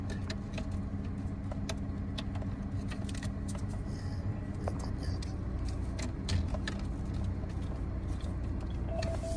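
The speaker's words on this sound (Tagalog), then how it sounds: "naka-on kasi ang ating engine" A car engine idles steadily while a Launch CRP129x diagnostic scanner is connected, giving a constant close hum with scattered small clicks and rattles throughout.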